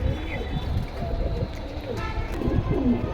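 Red-flecked military pigeons coo in low, throaty, repeated calls close by at a pigeon sale in Keraniganj, Dhaka, with a person's voice mixed in.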